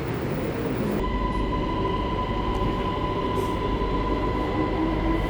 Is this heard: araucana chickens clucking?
no